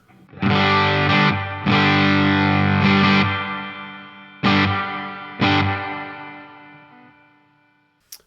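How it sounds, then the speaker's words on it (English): Loud, heavily distorted electric guitar chords strummed in sustained hits, each ringing out with a long reverb tail between strikes. "start cranking up the gain on the amp"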